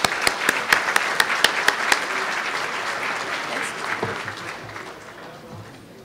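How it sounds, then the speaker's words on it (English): Audience applause at a pre-Ramadan mosque banquet, loud clapping with sharp individual claps early on, tapering off as a voice begins speaking over the fading applause. "Please give yourselves another warm round of applause."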